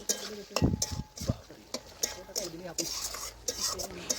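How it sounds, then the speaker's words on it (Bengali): A spoon stirs and scrapes through thick mutton curry with potato and papaya in a pot, giving a run of irregular clinks and scrapes with soft sizzling beneath and some quiet talking. "আবারও আমি কিছুক্ষণ নাড়াচাড়া করে কষে নিচ্ছি"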